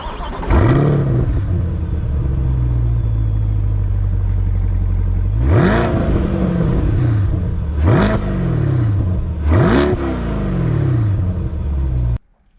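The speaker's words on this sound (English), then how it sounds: "Let's take it out on the road and get my first impressions driving the C8 Corvette." A Chevrolet Corvette C8 sports car is driven on the road with a steady engine drone inside the cabin, then revs hard several times in quick succession as it works through the gears.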